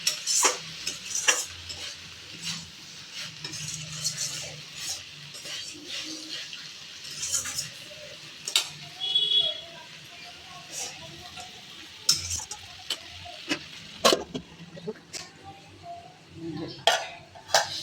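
Vegetables cooking in a pan in a home kitchen while a utensil stirs and scrapes them, giving intermittent clinks and scrapes over a low, steady sizzle, with occasional faint speech nearby.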